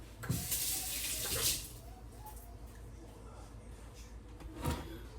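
A kitchen tap runs in a steady, close splash for over a second as hands are wetted while sourdough dough is being made, then cuts off, leaving quiet handling noises and a faint bump near the end.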